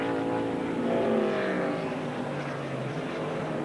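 Stock race car engines roar on a road course at Watkins Glen in 1993, a Pontiac among the field, with a loud sustained drone that peaks and then holds steady as the cars pass close by.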